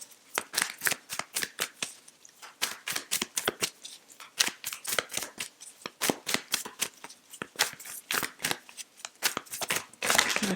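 Tarot cards are shuffled nearby in a steady stream of sharp, papery slaps and riffles that keep going for about ten seconds with no talking.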